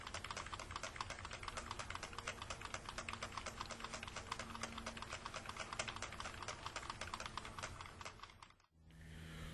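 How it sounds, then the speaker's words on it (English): Fast, steady tapping on a Cisco keyboard, close and continuous for several seconds, then cutting off abruptly near the end. "Punk rock album, the tapping of the Cisco keyboard."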